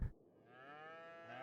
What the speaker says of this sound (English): A baby water buffalo!